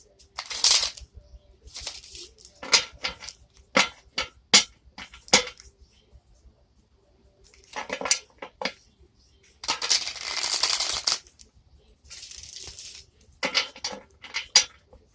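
Repeated crisp riffling and slapping of tarot cards being shuffled, in short bursts with pauses between, close and fairly quiet.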